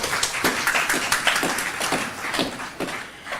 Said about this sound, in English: let me just give Uncle Raj a round of applause